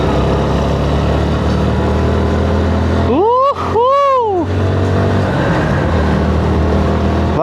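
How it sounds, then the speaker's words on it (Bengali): A motorcycle engine drones low and steady while riding, with a brief rising-and-falling tonal sweep in the middle before the steady hum returns. "ভাই কতদিন পর যে এই রকম করে বাইক চালাচ্ছে"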